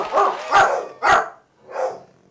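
Dogs bark close by in a short run of three loud woofs and then a softer fourth bark, with no talking, while fireworks are being let off outside.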